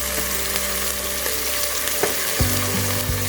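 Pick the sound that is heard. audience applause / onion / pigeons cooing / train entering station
onion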